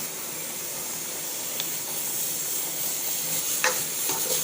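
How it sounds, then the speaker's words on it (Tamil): A pot of eggplant curry with tamarind water simmers with a steady soft bubbling hiss, with a couple of faint clinks partway through and no voices. "கத்திரிக்காயும் புளி தண்ணியும் சேர்த்து நல்லா கொதிக்கட்டும்"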